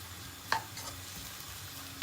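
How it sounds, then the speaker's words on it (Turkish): Two chopped medium onions sizzling and frying in a pan, a steady crackling hiss with a couple of sharp clinks from stirring. "Soğanlarımızı kavurmaya başladık."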